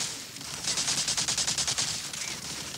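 Rapid automatic gunfire in a first-person shooter video game, a fast even burst of loud shots lasting a couple of seconds with no talking over it.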